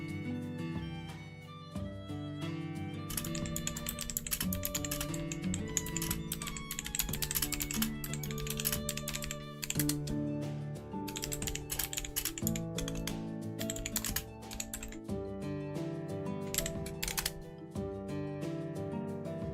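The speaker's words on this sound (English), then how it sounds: "You don't have to type so hard, that's just how I type." Fast, heavy typing on a loud computer keyboard gives a dense run of sharp key clicks, close and steady throughout, over soft tonal music in the background.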